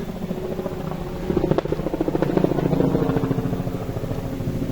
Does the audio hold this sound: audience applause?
no